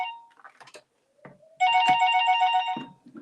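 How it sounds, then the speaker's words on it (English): A telephone rings as a call comes in during a live youth radio chart show, a steady electronic bell trill starting midway and holding loud for over a second after a few brief earlier blips. "Hold on, let me take this call again."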